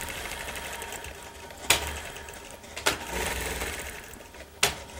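A sewing machine runs steadily while stitching crosshatch circle quilting, with a continuous close motor whir broken by three sharp clicks as the needle stops and restarts.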